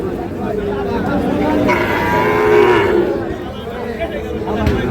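Two Sahiwal bull calves low at a busy cattle market, their moos rising in the middle of steady crowd chatter and nearby talk.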